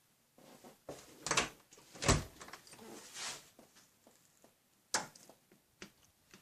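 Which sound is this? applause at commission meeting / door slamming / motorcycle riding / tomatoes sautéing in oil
door slamming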